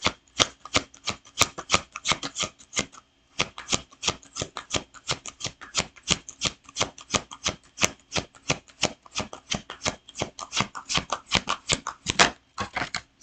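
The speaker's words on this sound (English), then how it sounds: "it's probably annoying as shit to hear me shuffle in your ear forever" Tarot cards being shuffled by hand, a fast continuous run of crisp riffling bursts repeating rhythmically for a long stretch, close and clear with no talk.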